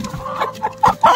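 Several hens in a coop in Uttarakhand give loud, close clucks in short uneven bursts, ending in a brief flurry of calls, with no talking.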